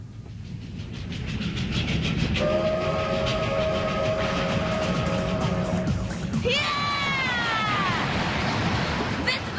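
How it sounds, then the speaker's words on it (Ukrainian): A train pulls into a station in an animated series, a loud steady rumble with a long sustained horn or whistle and then squealing brakes, under announcer speech. "Коли потяг прибуває на станцію, будь ласка, не заходьте за білу лінію."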